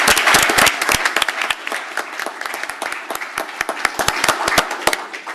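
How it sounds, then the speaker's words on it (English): Applause at a city council meeting honoring a man who completed a paramedic program: a lively, crisp burst of many hands clapping in a room, strong at first and then thinning into scattered claps. "we just want to give him a round of applause"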